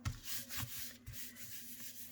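Paper rubbed by hand over a card to blot up ink, a soft, close scratchy friction in several short strokes, quiet and without talk.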